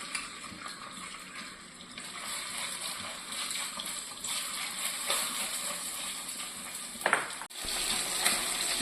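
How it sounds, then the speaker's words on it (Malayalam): Steady crackling sizzle of fish frying in hot oil in a pan, close and continuous, with a brief clatter near the end before the sizzle resumes. "ചൂടമീൻ വറുക്കാനുള്ള പരിപാടി"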